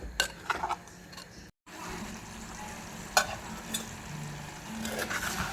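Anchovy masala being stirred and cooked down in a pan, a quiet steady sizzle with occasional scrapes and clicks of the spoon against the pan.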